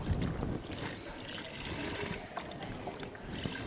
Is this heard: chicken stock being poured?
yes